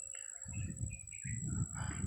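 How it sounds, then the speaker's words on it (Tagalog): Birds call and chirp outdoors in a quiet open area during a kite test flight, short bright calls scattered over a steady low rumble of wind or handling noise, no talk. "Yung mga ibon lang yung nandito."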